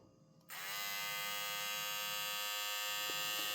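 A TPOB GO electric hair clipper switches on abruptly and holds a loud, steady high buzzing whine close by, with a faint click near the end.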